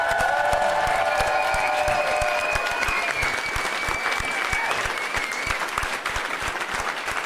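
A crowd applauds the top finishers at a national axe throwing championship, dense clapping with some cheering, loud and close and lasting throughout, fading slightly toward the end.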